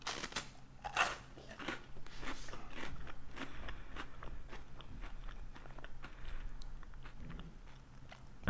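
Someone bites into and chews a crunchy vanilla waffle up close, producing a sharp crack followed by a series of crisp, irregular crunches that fade into quieter chewing.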